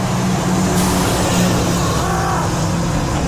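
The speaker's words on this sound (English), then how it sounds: "Fire truck." A fire truck passing on a street: a loud, steady roar of engine and road noise fills the whole span without a break, with no voices.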